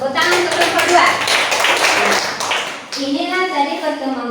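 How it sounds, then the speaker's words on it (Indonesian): A classroom of students claps for a presenting group after a lesson on artificial vegetative plant propagation, a brief burst of close, uneven hand claps mixed with voices and chatter. "Tepuk tangan untuk kelompok 2."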